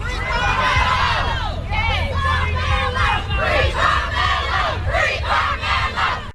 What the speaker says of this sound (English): Crowds outside of a North Texas courthouse reacting to the verdict in the Carmelo Anthony trial